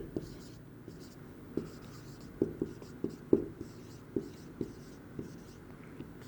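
Pen or pencil taps and scratches on paper while working out a dividend calculation, a string of light ticks at an uneven pace, close and quiet beneath soft room noise.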